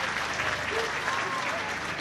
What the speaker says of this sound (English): gets a warm round of applause from the Scotstoun faithful